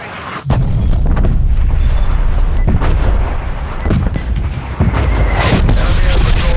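Heavy artillery strike explosions boom repeatedly in Call of Duty Black Ops Cold War, several loud blasts over continuous battle noise, with an in-game voice talking amid the barrage.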